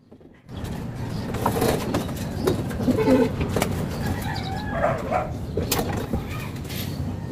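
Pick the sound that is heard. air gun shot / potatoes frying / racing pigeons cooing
racing pigeons cooing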